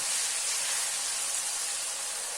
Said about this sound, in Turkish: Şimdi doğranmış olan tavuk göğsümü ısınmış olan yağıma atıyorum ve yüksek ateşte kavuruyorum.